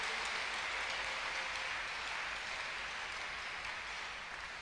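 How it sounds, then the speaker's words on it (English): A congregation at a Sunday worship service claps together in a steady, even wash of applause that sounds fairly faint and distant, with no voices rising above it. "Clap unto God and appreciate him"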